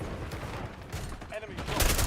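Scattered gunfire in Call of Duty Warzone, several distant shots and short bursts popping through a busy mix with voices talking underneath, growing louder toward the end.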